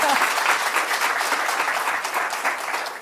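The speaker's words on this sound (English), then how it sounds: "please let's give a warm round of applause to the panel today" A conference audience applauds a business panel, a dense, steady wash of many hands clapping close up for the whole stretch with no voices over it.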